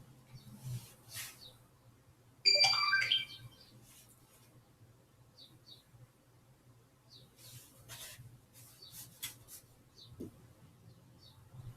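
Phone notification chimes, a burst of bright electronic tones rising sharply and briefly loud, then a few fainter beeps follow against a quiet indoor hum with no talking.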